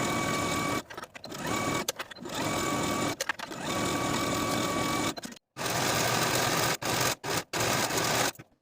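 Sewing machine running in steady bursts with brief stops, stitching a side seam of a colorblock dress, loud and close.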